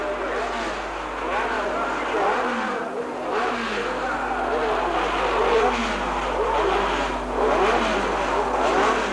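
Race cars practise at the Aintree circuit in 1954, their engines rising and falling as they sweep past at a distance, several passes blending together, with voices and crowd noise running underneath.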